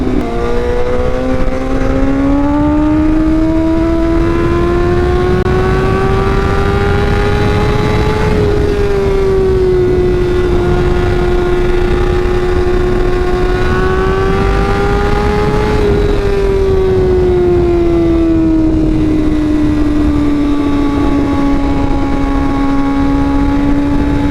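A BMW S1000RR sport motorcycle idles close by, its engine drone steady and loud with slight slow rises and dips in pitch over about twenty-four seconds, with no talking.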